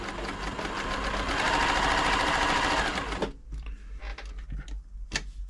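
A Pfaff 1139 sewing machine stitching zigzag whirs in a fast, even run for about three seconds and then stops, followed by a few quiet clicks and handling sounds close by.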